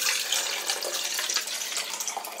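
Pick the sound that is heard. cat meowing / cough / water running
water running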